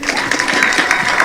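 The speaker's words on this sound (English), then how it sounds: "So clap for me." Crowd clapping at the Eldoret TechRun 10 km race event, a brief, loud burst of dense applause that stays even throughout, with faint voices mixed in.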